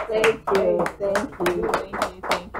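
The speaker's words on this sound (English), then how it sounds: "I'm clapping because I'm definitely thank you for having me again." Close, crisp hand claps from a small audience at a bookstore lecture arrive in a steady, evenly spaced rhythm, roughly two or three per second, with a voice faintly present underneath.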